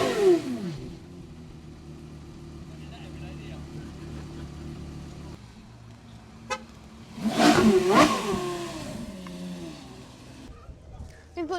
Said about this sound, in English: V10 Porsche.